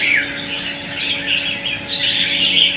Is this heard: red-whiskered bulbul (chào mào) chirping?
yes